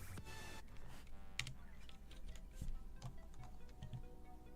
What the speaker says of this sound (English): I hope that my keyboard sounds will lull you into a deep sleep.